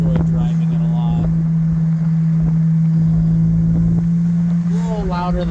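A 1995 Toyota Celica GT engine with a louder-than-stock exhaust holds a steady, loud drone from start to finish, heard up close inside the car with faint voices underneath.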